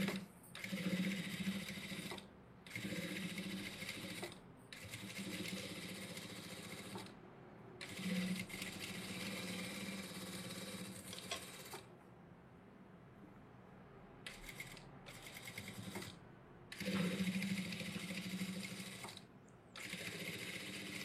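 A sewing machine stitches a blouse in several sustained whirring runs broken by short stops, steady and close, with a rhythmic mechanical chatter throughout.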